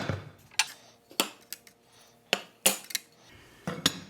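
Metal dado cutter blades and chippers from a saw are handled, giving sharp, irregular clinks and knocks of steel against steel, close up with quiet gaps between.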